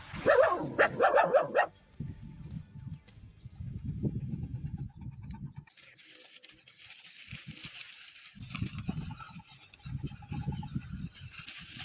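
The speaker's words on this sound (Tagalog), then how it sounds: "At may mga galang aso rin." Stray dogs bark a few times at a distance, followed by quieter intermittent low yelps and rural outdoor ambience near Cagsawa.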